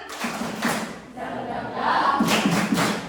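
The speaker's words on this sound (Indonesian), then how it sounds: "kita tepuk semangat ya sebelum ngikutin kegiatan hari ini ya tepuk semangat" A group claps a rhythmic spirit chant before a school activity, patterned beats in short bursts with a few voices chanting along and a brief lull midway.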